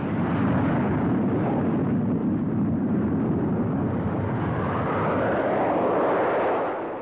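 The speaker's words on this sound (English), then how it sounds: "the French Air Force aerobatic team, perform in the Alpha Jet at speeds near the sound barrier" An Alpha Jet of the French Air Force aerobatic team roars past at an air show at speeds near the sound barrier. The loud, rushing jet noise sweeps in pitch as it passes, then fades slightly at the end.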